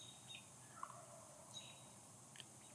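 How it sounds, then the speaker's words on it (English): Wild turkey gobblers calling in morning woods, several faint, distant gobbles and bird chirps rising over a steady soft background hiss, with no speech. "There's at least three or four different gobblers in this group behind me."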